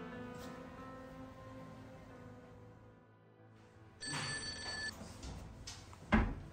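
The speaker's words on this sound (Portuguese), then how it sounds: "Mas eu vou ligar pra Marlene" A telephone rings on an outgoing call to a relative, a repeating bell-like tone with a steady rhythm, fairly faint at first, then louder and brighter toward the end with a short clatter.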